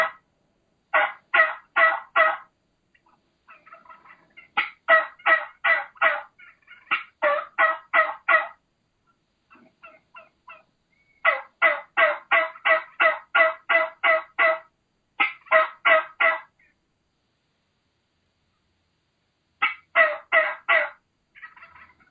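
Turkey hen call, low and slow with the lower note accentuated, given as repeated runs of clucking yelps in rhythmic bursts with pauses between, close and clear with no talk over it.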